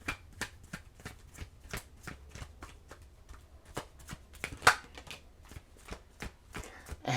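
A deck of tarot cards is shuffled by hand in a quiet room, a run of crisp, irregular riffling slaps and flicks close to the mic, roughly a dozen distinct bursts with brief pauses between them.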